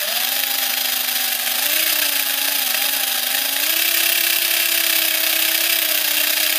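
A small electric motor in a RadioShack toy car whines steadily as it is revved before launch. The high, buzzing pitch wavers, then steps up and holds for several seconds with no talking.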